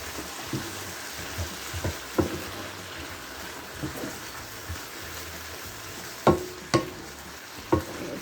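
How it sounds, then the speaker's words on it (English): A spoon scrapes and stirs a creamy Alfredo sauce in a pan, soft irregular swishes under a steady low hiss, with a few sharper clinks near the end. "I'm going to stir that around in here."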